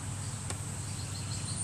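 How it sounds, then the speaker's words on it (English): Honeybees crowd a three-pound package box, about three-quarters full, producing a steady, close, low hum throughout with one brief sharper buzz near the start. "I'd say half, about 3/4 full of bees, and they're just buzzing around in here"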